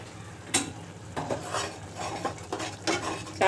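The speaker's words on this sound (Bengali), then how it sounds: "মশলা কষতে থাকুক" A spice paste of coriander powder and garam masala with a little water is stirred and sautéed in a pan for village-style chicken curry: repeated close scraping and clinking of the spoon over a soft, steady sizzle.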